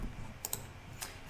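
A computer mouse gives a few light, close clicks in a quiet room, brief dry taps spaced irregularly over about a second.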